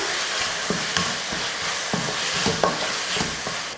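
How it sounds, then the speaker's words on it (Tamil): Mushrooms sizzle steadily in a pan while a utensil scrapes and stirs a ground paste through them in irregular strokes, close up. "இந்த பேஸ்ட்டை போட்டு கலந்துடலாம்."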